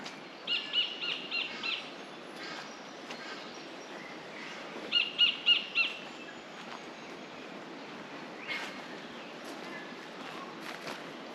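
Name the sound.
kingfisher calling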